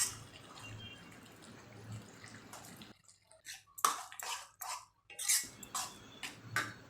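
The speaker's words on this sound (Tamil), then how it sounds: "இப்போ நல்லா கொதிக்குது." A pot of vegetable curry made with a ground paste boils, giving irregular soft bubbling pops and plops over quiet background, close by.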